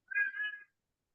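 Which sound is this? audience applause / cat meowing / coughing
cat meowing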